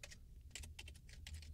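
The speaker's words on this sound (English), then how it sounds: "if I wanted to type the same command out longhand without using an object variable as a shortcut, I would have to type this" Code being typed on a computer keyboard: a quick, quiet series of close key clicks in an uneven rhythm, with no talk.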